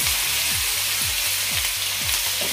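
Crushed garlic fries in hot oil, giving a loud, continuous close sizzle with a low rhythmic thumping of stirring roughly every half second underneath.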